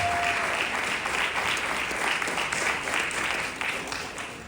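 Audience applause for Zaria, an 8th-grade girl, at a Juneteenth community event, a dense, steady wash of clapping from a sizeable crowd that carries at full strength before tapering slightly at the end.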